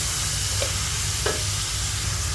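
Chicken curry with turmeric and spices sizzles in a pan while being stirred, a constant close hiss with a couple of soft scraping knocks and a low background hum, no talking.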